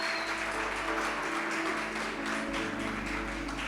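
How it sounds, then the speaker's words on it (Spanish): A church congregation applauds first-time visitors with dense, sustained clapping that fills the room, loud and continuous from start to finish, with a steady low hum underneath. "Por favor, denle un aplauso a las personas que vienen por primera vez"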